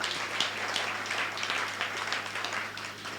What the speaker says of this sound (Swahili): Pigieni Yesu makofi mazuri basi